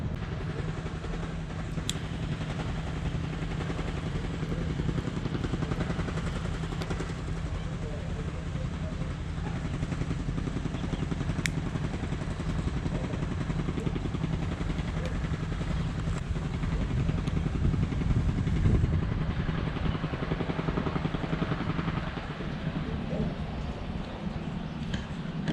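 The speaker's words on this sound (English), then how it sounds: "That noise you hear, they doing some road work." Road work machinery on a residential street: a steady low rumbling engine drone with mechanical clatter, moderately distant and continuous, with occasional sharp clicks and a slight swell later on.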